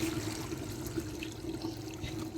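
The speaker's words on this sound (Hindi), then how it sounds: "बर्तन में 1 किलो पानी ऐड करेंगे।" About a kilo of water is poured into a cooking pot on a stove for semolina halwa, a soft, steady trickling splash that stays faint and continuous throughout.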